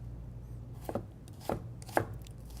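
Knife slicing an onion vertically with the grain on a cutting board: three quiet, crisp cuts at a steady rhythm over a low background hum, with no talking.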